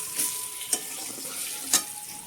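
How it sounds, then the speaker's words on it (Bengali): Onions with turmeric and salt frying in a pan for a small-fish chorchori, a steady close sizzle with two brief sharp spatters of stirring, no voices. "হলুদের সাথে পেঁয়াজটা ভালো করে ভেজে নেব"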